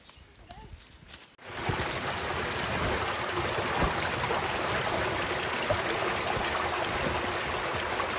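River water rushing and flowing steadily as a continuous broadband wash close by, starting abruptly after a short quieter moment with faint voices.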